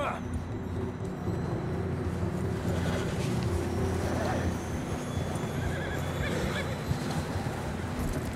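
A horse whinnies in Red Dead Redemption 2 on a ride out from Blackwater, layered over steady ambient game noise and clip-clop hoofbeats, with voices talking throughout.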